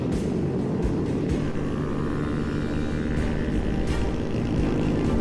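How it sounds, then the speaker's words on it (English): A steady, droning helicopter rotor and engine roar in a video game chase holds throughout, loud and continuous, with faint bursts of other noise on top and no talking. "we're still being chased by the chopper"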